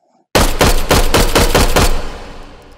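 Rapid burst of about eight sharp shots from an automatic handgun in the VR shooter H3VR, loud and close, evenly spaced, then a fading ring-out tail with no talk.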